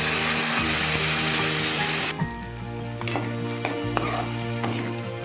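Loud sizzling of ground tomato paste fills the pan at first, then drops to a softer frying hiss with occasional stirring scrapes and clinks, making tomato and coconut chutney.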